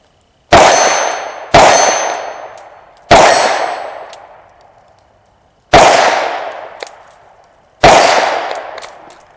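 Shots from a CZ Scorpion ring off steel targets at an outdoor range: five loud, sharp clangs spaced irregularly, each decaying into a lingering metallic ring.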